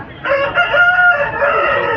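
An aseel rooster crows loudly and close by at a country-chicken market, one long drawn-out cock-a-doodle-doo that holds steady for nearly two seconds.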